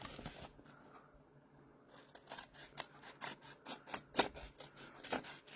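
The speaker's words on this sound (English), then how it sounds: "now we just take our snips here and cut out our flap" Metal snips cut out a flap in card, making a quick run of crisp, rhythmic snipping and rasping cuts, close and clear with no voice.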